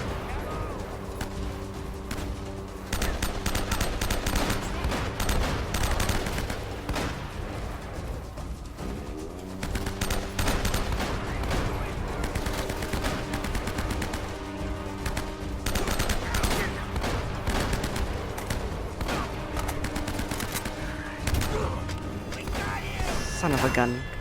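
Sustained enemy gunfire in Uncharted during the Showdown chapter boss fight, dense rapid shots and mechanical clatter running continuously over a game music bed, loud and close throughout.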